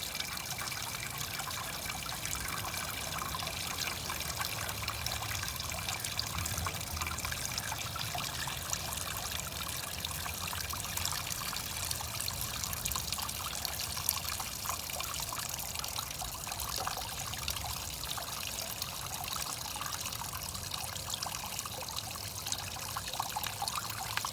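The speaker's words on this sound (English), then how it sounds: "Running this out until it gets clear." Wort runs steadily out of the mash during home brewing of an English IPA, a continuous trickling and pouring of liquid heard close up with no voices.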